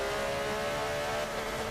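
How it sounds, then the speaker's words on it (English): Onboard engine roar of the Red Bull racing car in a Le Mans esports racing video game, a loud, steady high-revving drone holding a constant pitch through turns 2 and 3, with no talk. "This is the fastest car on track, the Red Bull racing car we're on board with as we go through turns 2 and 3"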